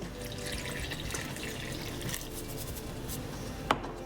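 Water poured into a large bowl of flour for bread dough, a steady soft splashing trickle running throughout, close and fairly quiet, with a small knock near the end.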